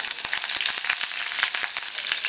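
Mustard seeds crackling and popping in hot oil along with sliced onion, red chilli and curry leaves frying, a bright, steady sizzle punctuated by rapid sharp pops.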